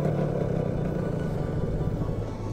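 Car engine idling low and rough with a stall-prone low idle setting, a close steady rumble with slight unsteady wavering and no speech.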